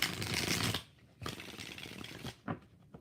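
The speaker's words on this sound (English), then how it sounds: "One more shuffle." Tarot cards are shuffled by hand in quick riffling bursts, with a steady papery flutter, a short pause, then more shuffling and a few soft taps. It is close and moderately quiet, with no talking.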